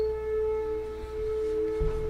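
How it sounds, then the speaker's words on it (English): Oklahoma tornado sirens wail at noon on a Saturday, a steady sustained tone held throughout, moderately loud and continuous with no voices. "wonderful Oklahoma tornado sirens are going off, it is Saturday noon"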